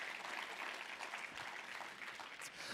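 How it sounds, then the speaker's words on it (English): Audience applause at an annual business meeting, a steady, fairly faint patter of many hands clapping at a distance in a room, with no one speaking over it. "One final round of applause."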